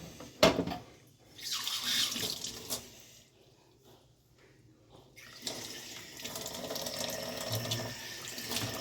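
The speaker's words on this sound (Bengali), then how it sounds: "এখন জলটা ফেলে দেবো, যে জলটা বেরিয়ে গেছে জলটা ফেলে দিতে হবে।" Liquid is poured off a bowl of marinated chicken, giving a couple of splashing, trickling bursts of water separated by a quiet pause, fairly close and moderate in volume.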